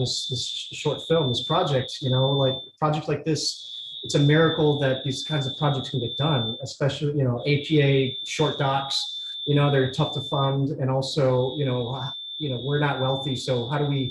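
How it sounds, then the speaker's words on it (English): A home smoke alarm repeats a steady high-pitched beep in regular pulses, sounding throughout under a person talking continuously. "sorry, that's my fire alarm."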